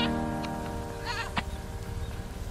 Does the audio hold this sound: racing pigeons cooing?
no